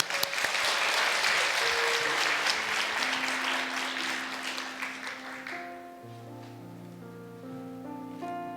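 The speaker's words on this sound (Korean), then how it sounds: "우리 박수로 환영하겠습니다." A church congregation at a Friday prayer meeting claps in welcome, a dense, sustained wash of applause that fades toward the end as sustained organ or keyboard tones come in beneath it.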